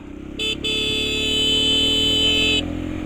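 A motorcycle engine drones steadily as it climbs a long uphill road in Bagulin, La Union, in first gear, with a high, strained whine rising over it for a couple of seconds.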